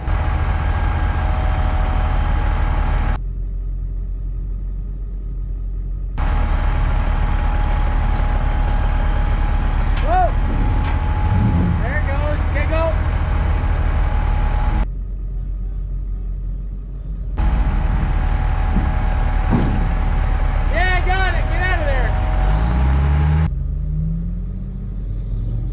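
A 1980 Kenworth picker truck driving, its diesel engine rumbling loudly and steadily with some higher whines and squeals, broken by several abrupt cuts to near silence.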